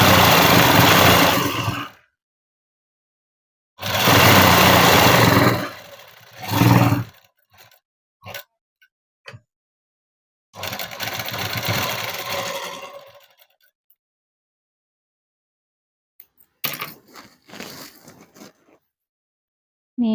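An electric sewing machine stitches a dress seam in several loud bursts of rapid whirring, separated by silent pauses and short clicks as the fabric is shifted between runs.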